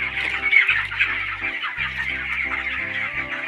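Poultry-farm chickens cluck and squawk in a busy, overlapping chorus close by, with a steady low mechanical hum running underneath.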